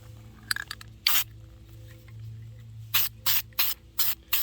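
GPM all-purpose gloss black spray enamel hisses from an aerosol can in a garage, one short burst followed by five quick, evenly spaced bursts, loud and close with no talking.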